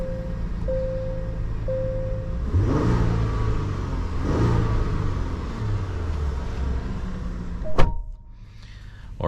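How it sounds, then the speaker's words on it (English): A 2023 Genesis GV70 SUV with a 3.5-litre twin-turbocharged V6 rumbles and revs steadily for several seconds, its engine note rising and falling, before a sharp thump like a door closing near the end. "let's go ahead and take this Genesis GV70 on a test drive and see how it does"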